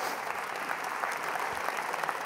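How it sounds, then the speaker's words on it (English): Steady applause from an audience, a dense even patter of many hands clapping throughout with no pauses. "Give him a round of applause."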